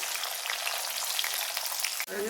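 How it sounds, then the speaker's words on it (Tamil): Small onions and garlic sauté in hot oil in a pan for a South Indian tamarind curry, giving a dense, steady sizzle close by with a brief clatter near the end. "சின்ன வெங்காயம் போட போட டேஸ்ட் நல்லாயிருக்கும் இப்போ நல்லா வதங்கட்டும்"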